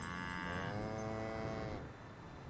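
A cow lows in the video game Windstorm, one drawn-out moo with rich harmonics over a steady bed of game ambience and music, fairly close and alone without talk.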